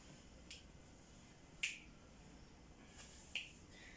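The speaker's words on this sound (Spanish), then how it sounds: "La prueba consiste en realizar chasquidos en ambos lados de sus hemisferios" Three sharp finger snaps beside a patient's head during a cranial nerve hearing exam, spaced irregularly, crisp against a quiet background hiss.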